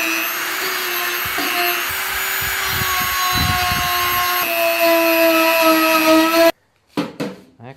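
A Dremel rotary tool fitted with a wire brush spins at 21,000 RPM on a rusty old toolbox, giving a loud, steady high-pitched whine with scratchy grinding as it bites the metal, then cutting off abruptly near the end.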